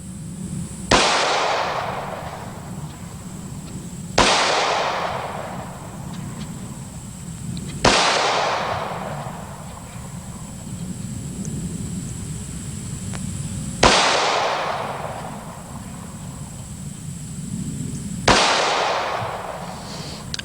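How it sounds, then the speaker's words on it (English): Five loud, sharp semi-automatic pistol shots ring out one at a time at uneven intervals of about three to six seconds, each decaying quickly into steady outdoor background noise. "Pull that slide back. Let's do a little shooting with it."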